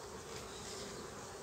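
Honeybees hum around an open hive frame being handled while frames are added, a faint continuous buzzing drone.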